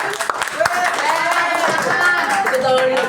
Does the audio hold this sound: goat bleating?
no